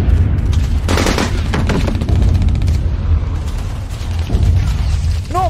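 Video-game battle gunfire in a war game set underground, dense booming shots and explosive rumble running steadily and loud throughout, with no speech over it.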